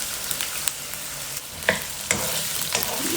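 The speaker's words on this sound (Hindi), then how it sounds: "दो मिनट इनको फ्राई करेंगे।" Okra (bhindi) fries in a pan with a loud, continuous crackling sizzle, punctuated by several short scraping stirs and taps of a spoon against the pan.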